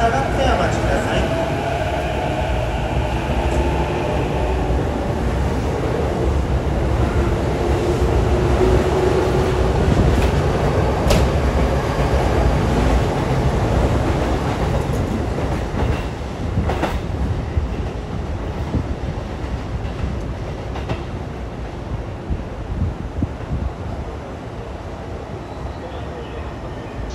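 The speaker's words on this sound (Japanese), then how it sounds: "まもなく2番線側電車の到着となります。" A Chuo Line rapid commuter train rumbles and clatters into a Japanese station platform, loud and close, with wheels clacking and brakes hissing as it slows.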